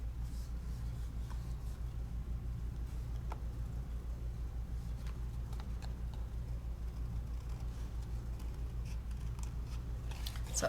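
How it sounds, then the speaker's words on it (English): Scissors fussy cutting paper give a quiet run of soft snips and rustles over a low steady background hum, faint and close, with no talking. "when you're fussy cutting, and your scissors stay exactly where you started"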